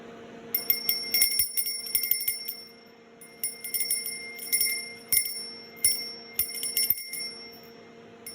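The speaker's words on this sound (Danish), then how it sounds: "And then I will ring with a little bell." A small hand bell rings in repeated bright jingling bursts, several short shakes separated by brief pauses, clear and fairly close in a quiet room.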